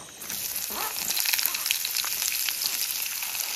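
Onion sizzling in a pan with whole garam masala, cooked outdoors at a night forest campsite: a steady, dense crackle that continues throughout the clip with no talk.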